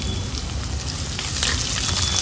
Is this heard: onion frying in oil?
yes